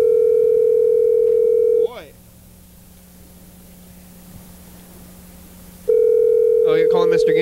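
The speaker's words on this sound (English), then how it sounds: "you're calling Mr. Ginsu, see who's going to answer" A telephone handset plays a loud, steady dial tone that drops out for about four seconds and then returns, while a voice speaks briefly near the cut and again at the end.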